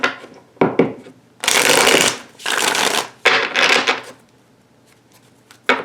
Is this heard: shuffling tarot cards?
yes